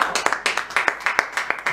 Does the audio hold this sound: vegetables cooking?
no